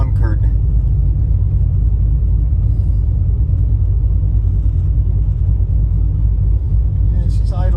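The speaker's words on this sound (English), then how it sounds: "she's idling about 900 RPM." A 2007 Mustang with a freshly installed engine idles at about 900 RPM, a steady low rumble with a slight lope, moderately loud and close, continuing evenly throughout.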